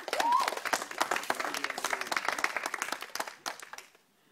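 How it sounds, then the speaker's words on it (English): Round of applause from a Christmas party awards audience: dense, steady clapping from many hands that thins out toward the end, leaving a few scattered claps. "Round of applause."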